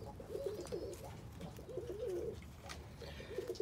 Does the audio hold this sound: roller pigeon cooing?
yes